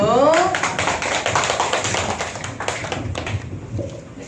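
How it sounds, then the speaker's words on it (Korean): A small group applauds at a Wednesday group presentation meeting, a dense steady patter of clapping with voices mixed in, easing off toward the end. "박수."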